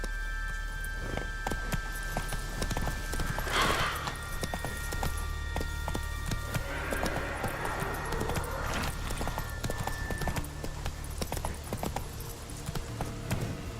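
Hooves of the horse Roach galloping in The Witcher 3, a steady quick clip-clop rhythm running throughout over a constant game soundscape with a low hum.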